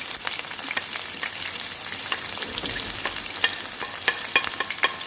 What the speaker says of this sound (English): Release the aromatics in the pan, in the oil.